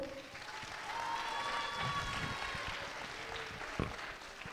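Audience applause for a participating school at a children's singing contest, a steady wash of clapping that holds for several seconds before easing off.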